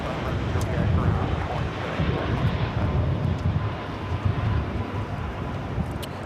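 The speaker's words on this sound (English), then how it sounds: "This is LL Flight 6, taking off to Tel Aviv on the 787-9 Dreamliner" A Boeing 787-9 Dreamliner taking off from LAX bound for Tel Aviv, a continuous rumbling jet roar that swells and wavers over the whole stretch, with some talk in the background.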